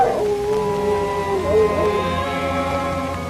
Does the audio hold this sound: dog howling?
yes